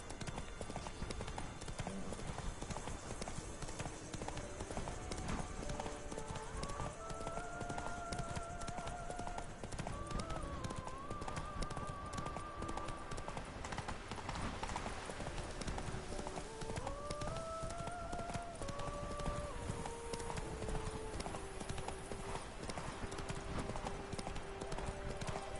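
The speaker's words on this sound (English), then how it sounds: "Run, Roach" Horse galloping in The Witcher 3, a steady rapid clip-clop of hooves running throughout, even and continuous, with game music tones and a voice speaking over it.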